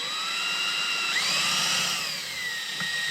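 A drill works on the steam passages of a scratch-built horizontal model steam engine, giving a steady, close, high whine with a slight upward sweep in pitch partway through and no talking.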